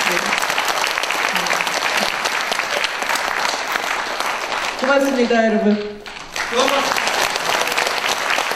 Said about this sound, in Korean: 훌륭한 사회를 봐주신 우리 노정일 씨께 큰 박수 한번 보내드릴게요.